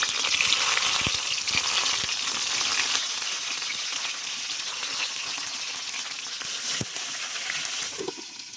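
Hilsa fish paturi frying in a pan, a steady dense sizzle with crackling pops throughout, close and loud, no voices.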